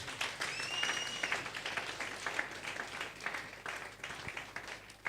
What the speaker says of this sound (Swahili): mpigie Yesu makofi tena